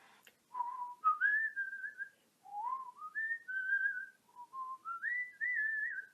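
A person whistles a wandering melody alone, with clear pitched notes rising and falling in short phrases with brief pauses between them.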